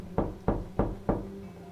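Four evenly spaced knocks on a door, firm and close, with a faint quiet room behind them.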